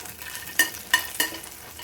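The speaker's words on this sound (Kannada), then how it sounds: "ಹಸಿಮೆಣಸಿನ್ಕಾಯಿನ ನಾನು ಫ್ರೈ ಮಾಡ್ಕೊಳ್ತೀನಿ." Green chillies, cloves and cinnamon sticks fry in a pan, a low steady sizzle broken by three sharp stirring clacks at even intervals, near and alone.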